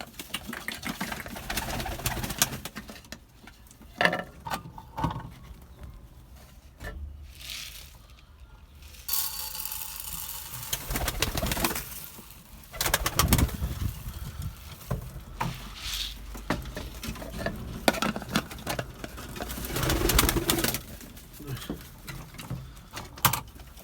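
Play pigeons in a loft in Gebze, Kocaeli, coo and flutter close by while being fed on a snowy day, with soft pattering and scratching around them and no talk.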